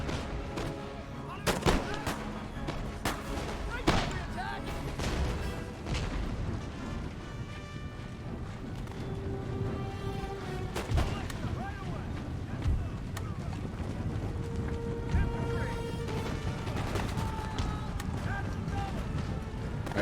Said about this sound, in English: Looks like the cannon's ripping into them now too.